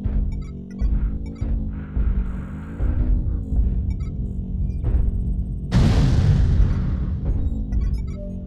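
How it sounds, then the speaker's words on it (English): Artillery strike explosions in a video game: a deep rumbling drone gives way to a loud, sustained booming blast near the end, with low throbbing and small chimes over it. "Artillery strike activated."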